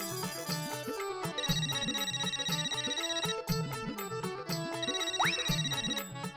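A melodic mobile phone ringtone plays a repeating bright electronic tune, ringing steadily for an incoming call in a household scene from an Indian sitcom.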